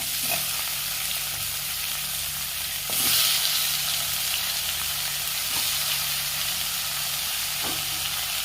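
Tomatoes sautéing in a pan for mint chutney give a steady, close sizzle and hiss, with a few soft stirring scrapes and a brief louder burst of frying partway through.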